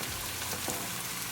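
Green chili and onion sizzle in a hot pan, a soft steady frying hiss with faint crackles, close and uninterrupted.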